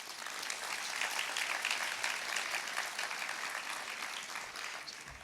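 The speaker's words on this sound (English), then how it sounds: "so they'll just clap" An audience claps at a business school postgraduate graduation ceremony, steady, dense applause that carries on evenly throughout without voices.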